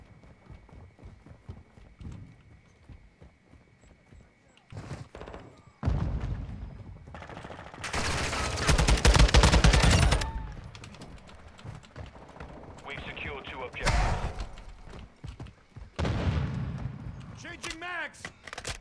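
Gunfire in Call of Duty Modern Warfare 2 multiplayer: a sparse run of shots that builds into loud, dense bursts of rapid fire and blasts, with quieter gaps between and game radio voices calling out over the action.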